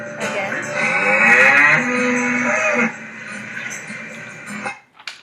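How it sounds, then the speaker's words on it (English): A cow moos in one long, drawn-out low call that rises and wavers before tapering off, close and clear. "That's the sound of a cow."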